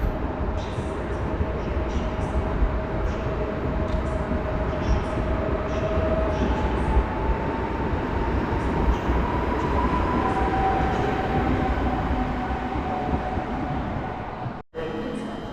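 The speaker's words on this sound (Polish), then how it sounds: "A przed nami PESA DART, pociąg Leśmian, relacji Wrocław Główny, Białystok." A PESA DART passenger train rolls through Wrocław Główny station with a loud, steady rumble and wheel noise, plus faint squealing tones from the rails along the way.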